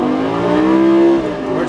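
A Lamborghini Gallardo LP560-4 accelerating at full throttle, its engine a loud, close, sustained roar whose pitch climbs steadily and then drops briefly as it shifts, with a voice speaking over it.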